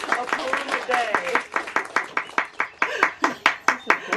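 Clapping from a small audience at a Beach Poets poetry reading, a steady run of close hand claps that grows more rhythmic and spaced toward the end, with a voice talking underneath.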